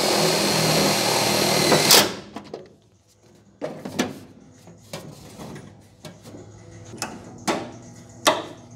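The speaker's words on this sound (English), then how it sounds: "it's got kind of a drill bit on the end, and it cuts its own hole, allowing the screw to come down and bite in" Self-drilling screw driven into the floor panel of a 1980 Fiat Spider during rust repair, heard as a loud burst of drilling that stops abruptly, followed by several short, sharp knocks and clicks at irregular intervals.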